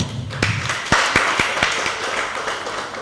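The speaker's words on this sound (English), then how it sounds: "let's applaud ourselves for that" Applause at a startup accelerator demo day, scattered hand claps with several distinct sharp claps standing out over a soft background patter, moderately quiet.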